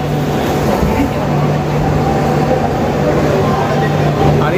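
A passenger train pulls out of platform 1 at Kharagpur station, a steady low rumble and hum heard from inside the carriage, constant and fairly loud throughout.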